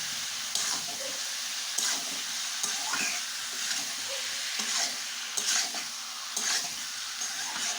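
Chicken stirred and frying in a pan with yogurt poured in for a Bengali chicken kosa: a steady sizzle broken by repeated scraping strokes of the spoon at a regular rhythm.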